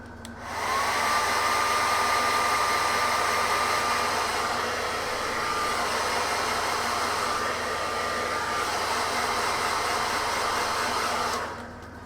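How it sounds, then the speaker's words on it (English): A hair dryer blows steadily for about eleven seconds while drying paint on a model, a loud constant whoosh with a faint high whine, starting and stopping abruptly. "Blast this with a hairdryer again."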